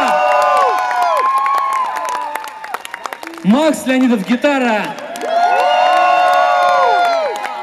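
Outdoor youth-day concert crowd in St. Petersburg cheering, whooping and shrieking loudly while clapping, with a male announcer briefly introducing a band member over an amplified system before the roar swells again.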